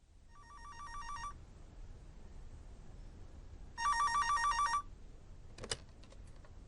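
Telephone rings twice in a recorded long-distance phone call, two clear trilling electronic bursts separated by a pause, followed by a short click as the receiver is picked up, with no voices.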